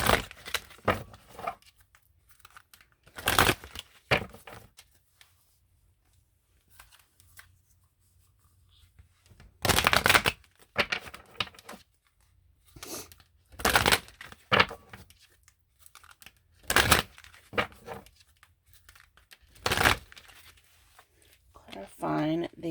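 Repeated bursts of tarot cards being riffled and shuffled, each a short crisp flurry, separated by pauses with a person talking quietly in between.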